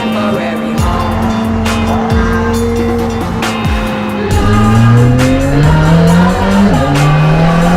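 A McLaren Senna supercar engine revs loud and close, its droning tone rising and shifting through gear changes while tires squeal and skid repeatedly.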